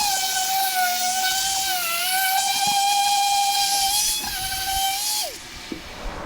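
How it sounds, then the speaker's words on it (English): A Rust-Oleum spray paint can sprays the interior of a 1962 Chevrolet C10 show truck: a steady, close aerosol hiss with a thin whistling tone runs for about five seconds, then cuts off. "So let me get this sprayed up."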